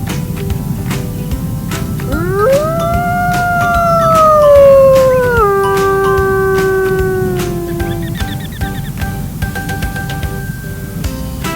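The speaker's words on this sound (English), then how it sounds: "A wolf on the edge of the forest howled its refrain." Cartoon wolf howl, a single long, rising then gliding wail that swells in the middle and trails off, set over a busy background of plucked and percussive cartoon music.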